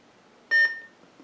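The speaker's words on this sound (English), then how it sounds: "that's the Vader OT boot sound. It's a similar sounding font." Boot sound from a Darth Vader OT sound font on a Hasbro Force FX Darth Vader lightsaber converted with an NBv4 board: one short, bright electronic tone with a ringing, fading tail over quiet background.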